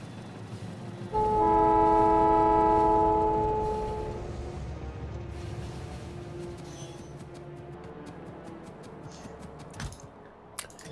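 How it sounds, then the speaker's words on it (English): A train horn blasts loudly for a few seconds, then a train in the video game Factorio rumbles steadily along with occasional clanks and clicks. "Let's go back and use the train."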